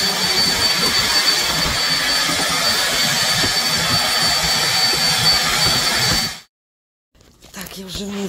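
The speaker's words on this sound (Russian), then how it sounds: "Просто пылесос гудит громче, чем мой звук." A vacuum cleaner drones loudly and steadily for several seconds, then cuts off abruptly into silence before faint sounds and speech return.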